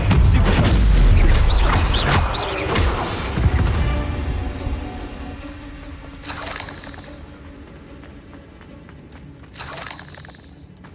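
An Incendio fire spell cast in Hogwarts Legacy bursts out with a heavy booming whoosh that fades into a crackling tail, followed later by a couple of brief airy sprays.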